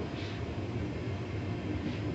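Interior cabin rumble of a GWR class 802 train, unit 802106, running from London Paddington toward Slough, a steady low drone and rattle throughout with no break, heard from onboard.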